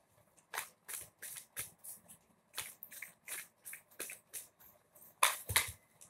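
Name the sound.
tarot cards being shuffled and laid out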